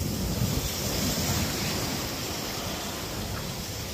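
Sea surf and a nearby waterfall make a steady, broadband roar that holds level throughout, loud and close, with wind buffeting the microphone and no voices.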